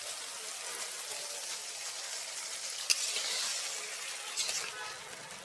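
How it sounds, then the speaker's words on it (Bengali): Water added to spices frying in a pan for a boal fish curry, producing a soft continuous sizzle and hiss with a sharp tick partway through and a brief swell of bubbling toward the end. "এখন একটু জল দিয়ে দিচ্ছি"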